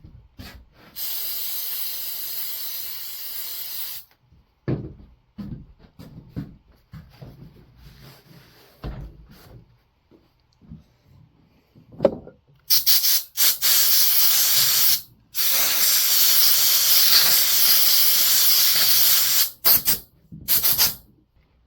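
Compressed air blasts over a STIHL FS 100RX string trimmer during cleaning, coming as two loud, sustained hissing bursts separated by quieter handling noises and brief pauses.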